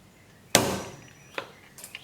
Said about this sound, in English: Give it another tap.